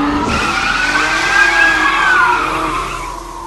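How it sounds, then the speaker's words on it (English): Russian fire truck siren: a loud, steady high wail held for several seconds, drifting slightly up and then down in pitch before easing off, close and unbroken. "This is a Russian fire truck."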